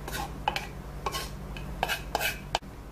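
Naan dough ingredients being stirred in a bowl, with a soft scraping swirl broken by several sharp clinks of a utensil against the bowl, close and alone.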